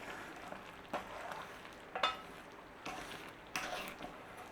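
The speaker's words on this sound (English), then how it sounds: "you don't have to go crazy with the stirring, but you do have to stir it because we don't want to actually catch it on the bottom of the pan" Caramel simmers quietly in a pan while a utensil stirs it, leaving faint bubbling under several soft scraping strokes spaced about a second apart.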